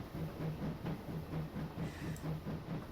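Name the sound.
train driving in a TrainSim video game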